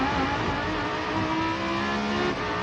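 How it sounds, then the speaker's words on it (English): GT race cars roar over a brow on a circuit, a loud continuous engine din with rising, revving tones throughout, no voices. "Great noise these cars make."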